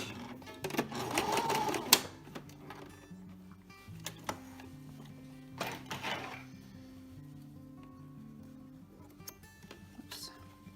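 A home sewing machine back stitches a cloth face mask, a close burst of mechanical whirring and clatter early, then shorter quieter runs with clicks and handling noises in between.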